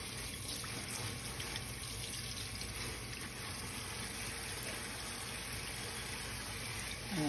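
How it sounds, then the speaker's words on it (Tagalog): Running tap water rinsing water spinach (kangkong) for adobo in a home kitchen, a steady hissing stream that continues without a break, with no talk. "Diretso lang yung kanyang tubig"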